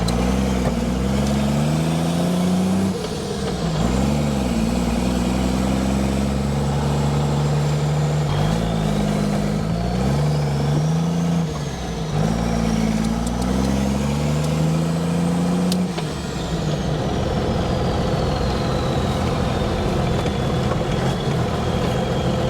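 A truck with no front or rear sway bars drives steadily, its engine droning loud and close throughout with rising and falling revs and a persistent road rumble, no voices present.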